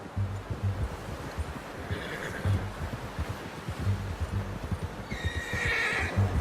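A horse in the video game Red Dead Redemption 2 whinnies twice amid a steady, rhythmic clip-clop of hooves, with faint rustling in the background.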